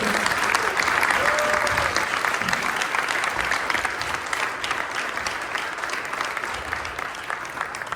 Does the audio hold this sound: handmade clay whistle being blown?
no